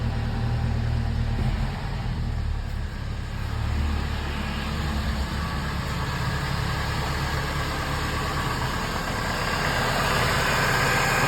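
A 2005 Chevrolet Colorado engine idles steadily after a timing chain repair, a close, continuous low rumble with no voices over it.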